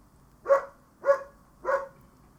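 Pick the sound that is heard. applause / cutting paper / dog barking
dog barking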